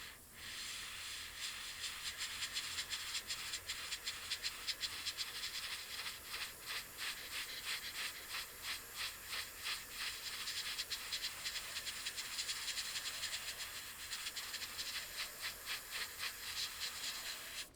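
A Gaahleri GHAD-39 airbrush sprays base coat in a steady, close airy hiss that runs almost unbroken, pulsing slightly as the trigger is worked, with no voices.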